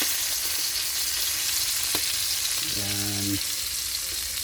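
Fish frying in a pan over a home cooking fire, a steady loud sizzle that lasts the whole time, with a man's brief remark and a short tonal sound partway through.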